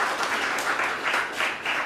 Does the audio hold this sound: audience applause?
yes